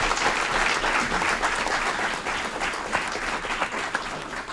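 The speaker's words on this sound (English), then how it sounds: "Let's give both of our deputy mayors a round of applause." An audience at a city council committee meeting claps for the deputy mayors, a dense sustained round of applause that stays loud and full across the whole stretch, easing slightly toward the end.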